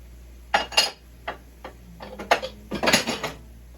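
Metal spoon scraping and clinking around a pot while goulash spices, regular paprika, kosher salt and dry mustard powder are stirred in, a few short close scrapes spread unevenly with a burst of quick clinks near the end.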